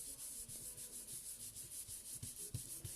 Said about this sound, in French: Je me sers de la brosse à estompe.